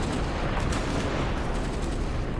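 A tank cannon in the video game Steel Fury, a T-37/76, fires armor-piercing shells amid a dense, loud barrage of booming, rumbling blasts that runs without a break and without any voice.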